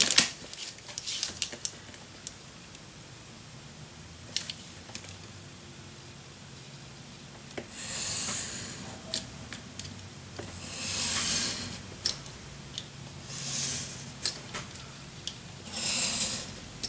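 Scissors snip through paper cutting windows for a Christmas mini album: quiet, close cutting strokes and soft rustling, with several longer slicing passes in the second half.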